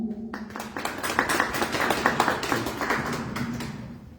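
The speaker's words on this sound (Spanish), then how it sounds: "Le damos por favor un aplauso." A modest audience at a book presentation gives a round of applause. Distinct individual claps build quickly, then hold steady and gradually thin out over about four seconds.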